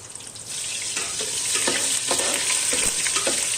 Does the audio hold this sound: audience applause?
no